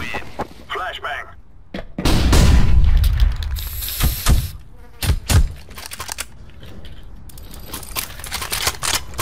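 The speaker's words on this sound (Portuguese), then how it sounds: "Flashbang." A flashbang grenade goes off in CS:GO with a sudden low boom, followed by a high ringing tone and scattered clicks and thuds of play, while a voice talks intermittently.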